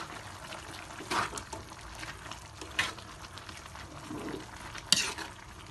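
Giniling (ground pork) being stirred in a pan with carrots and pre-fried hotdog, giving soft scraping and a low sizzle with a few sharper spoon knocks against the pan, close and fairly quiet.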